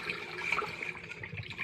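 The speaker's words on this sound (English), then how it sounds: "we're just going to pour everything into a strainer" Pomegranate arils and water poured into a strainer, a steady close splashing and trickling flow that runs without a break, with no voices over it.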